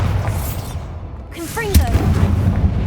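A Bombarda blasting spell detonates in the Hogwarts Legacy video game, a single sharp explosive crack with a bright burst followed by rumbling low booms over steady game ambience, while a voice speaks briefly before the blast.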